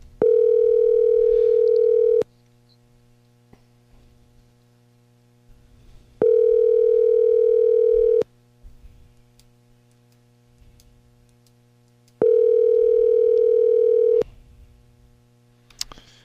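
Ringback tone on an outgoing telephone call: three loud, steady electronic tone bursts of about two seconds each, separated by roughly four seconds of near silence, with no talking.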